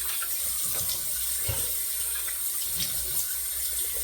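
Tap water runs steadily into a sink while a razor is rinsed under it, a continuous close splashing rush with small irregular splatters throughout.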